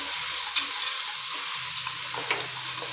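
Soaked green peas sauté in a hot pan for vegetable pulao, a close continuous sizzle with a few light taps and scrapes of a stirring spoon.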